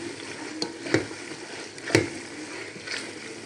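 Njama njama (huckleberry) greens being stirred into tomatoes in a cooking pot, with a few soft, squelchy scraping strokes about a second apart over a faint background sizzle.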